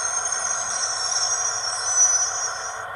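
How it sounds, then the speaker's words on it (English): A model train's Bluetooth DCC sound module plays a diesel locomotive's brake squeal, a steady high-pitched metallic screech held for about three seconds with a faint low rumble beneath. "Brake squeal."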